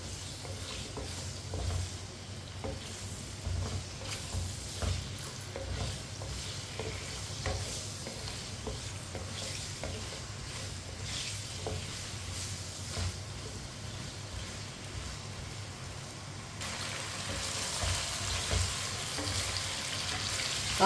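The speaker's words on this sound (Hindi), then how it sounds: "आलूओं को अच्छी तरह मिक्स कर लिया मैंने ऑयल में।" Cut potato pieces sizzle steadily in hot oil while being stirred, a continuous close frying hiss with scattered scraping clicks and a louder burst near the end.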